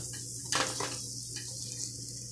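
Schezwan noodles with vegetables are tossed and mixed in a pan on a gas stove, giving soft scraping and light sizzling in two brief bursts over a quiet background hum.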